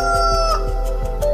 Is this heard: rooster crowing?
yes